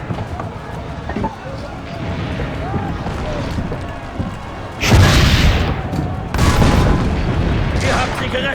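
Cannon fire in Assassin's Creed Brotherhood during a battle at the city walls: heavy booms burst in around the midpoint and again a little later over a busy game soundscape, with voices talking throughout.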